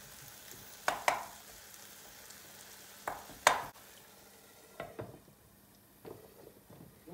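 An egg cooks in a covered pan while a spoon pokes at it, giving a few sharp clicking taps and scrapes over a quiet background sizzle that fades toward the end.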